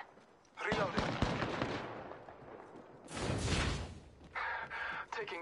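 Bursts of gunfire in the video game Apex Legends, two long rattling volleys and a shorter third one, close and loud, with a voice speaking between them.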